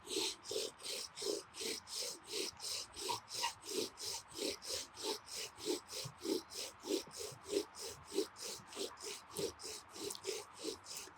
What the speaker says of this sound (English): What we're trying to do is seat the spindle to the hearthboard